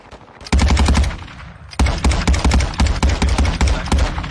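Video game gunfire rattles loudly in rapid automatic bursts, a short one followed by a longer sustained stretch of shots, close and dominant.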